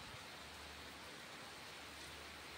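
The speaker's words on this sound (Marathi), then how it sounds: "मध्ये पाऊस सुरू झालेला आहे" Steady rain falls during a monsoon-season downpour, a faint, even hiss of drops on surfaces that holds unbroken and without speech for the whole stretch.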